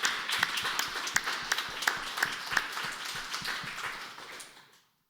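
An audience at a talk on EU border militarization and asylum politics applauds, with a few sharper individual claps standing out over the crowd before it thins and fades to silence.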